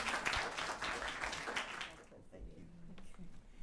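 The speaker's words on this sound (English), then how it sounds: "So let's give Sujit and Neil another round of applause." An audience applauds at a panel discussion on minority serving institutions; clapping is fairly loud for the first two seconds, then thins out into a few scattered claps under low room noise.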